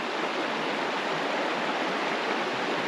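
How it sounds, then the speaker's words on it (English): Steady broadband rush of a river flowing past a big timber log bridge in remote Tasmanian wilderness, continuous and fairly close with no voices. "I'm gonna sit by the river here. Just enjoy listening to the"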